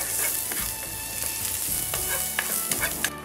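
Finely chopped onion sautéing in a pan, a loud close sizzle with quick repeated scraping and tapping of a spatula, continuous over a few seconds and with no one talking.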